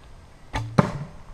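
An arrow shot from a bow hits a bucket: a soft whoosh of release followed quickly by a sharp hollow knock, close and clear, with no talking.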